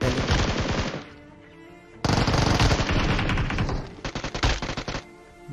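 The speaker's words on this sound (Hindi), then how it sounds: "बॉट आया तो अब वो तो फायर करेगा ही बॉट के ऊपर, और बॉट भी करेगा उसके ऊपर।" Rapid bursts of automatic gunfire from a video game clash between players and a bot, loud and close, coming in several dense volleys separated by short lulls, with no talking over it.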